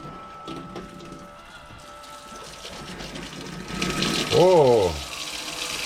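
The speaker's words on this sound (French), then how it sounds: "j'ai plus qu'à mettre en route la pompe d'eau de mer et on va voir si ça amorce" A boat's sea water pump starts up and runs with a steady mechanical whine and gushing, gurgling water that swells louder toward the end, with a rising and falling tone as it primes.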